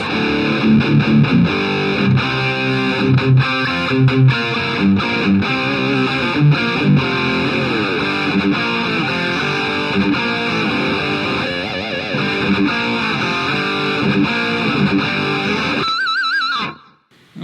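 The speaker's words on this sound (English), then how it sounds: "this 1960 AG, this is based on a Marshall vintage cab with greenbacks." Distorted electric guitar through a MOOER 1960 AG cab impulse modeled on a Marshall vintage cabinet with Greenback speakers, playing crunchy riffs and sustained chords loud and alone, ending in a brief feedback squeal and cutoff.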